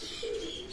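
An Oman Teddy pigeon gives one soft, short coo, close and fairly quiet, with no talking.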